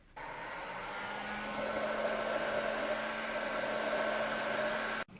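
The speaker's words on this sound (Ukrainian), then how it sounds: "Зараз прогріємо це все феном." A heat gun blows hot air onto a part of a Hilti TE 40 AVR hammer drill being taken apart, giving a steady, loud broadband whoosh with a faint motor hum that runs almost the whole clip before cutting off.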